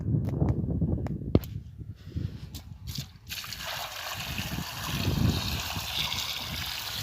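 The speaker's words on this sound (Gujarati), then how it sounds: "હવે આને પાણી નાખી દઈએ" Water pours and splashes into a container of potatoes, a steady gushing trickle after a few clattering knocks, with faint talk in the background.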